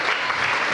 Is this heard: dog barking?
no